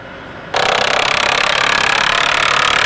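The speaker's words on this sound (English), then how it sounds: "Fastening it on with the impact driver." An impact driver fastens a board during a barn restoration, starting abruptly with a loud, rapid, hammering buzz that continues steadily and close for a couple of seconds.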